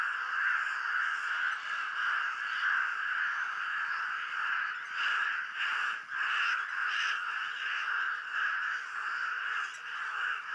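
A loud chorus of crows caws continuously at a waterhole, many overlapping calls forming a dense, steady wall of sound with no talk.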